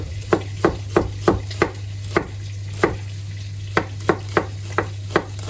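A knife slicing an onion on a board makes a series of sharp, close taps, sometimes quick and sometimes paced, over a low steady hum, with no speech.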